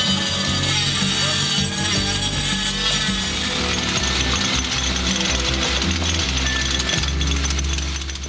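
Heavy tools cutting and breaking ceramic and concrete, including a jackhammer and diamond-blade electric saws, make a dense, continuous, loud grinding and rattling clatter that stays at the same level throughout.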